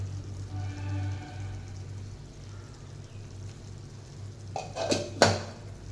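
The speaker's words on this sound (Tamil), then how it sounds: "போட்டுட்டு அப்படியே இது எல்லாத்தையும் மிக்ஸ் பண்ணுங்க" A spoon mixes pounded mustard, fenugreek, cumin and coriander in a pan for garlic pickle: quiet at first, then a few sharp metallic clanks and scrapes near the end over a low background hum.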